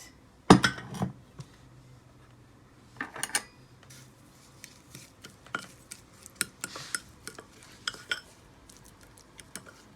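A spoon clinks against a bowl while spices and oil are stirred together, heard as a series of close, bright taps and scrapes in an irregular rhythm with quiet pauses between them.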